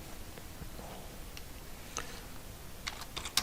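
Sparse, faint keystrokes on a computer keyboard as C++ code is typed, a handful of separate clicks rather than a steady run, over a quiet room background.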